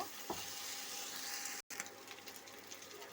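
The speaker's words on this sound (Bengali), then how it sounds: "আবার আমি এভাবে নাড়াচাড়া করব যতক্ষণ আমার মাছটা মশমুচে না হবে ততক্ষণ এভাবেই আমি নাড়াচাড়া করতে থাকব" Fish pieces fry in hot oil as they are stirred for chips, a steady dense sizzle filling the pan with soft scraping, broken by one brief dropout midway.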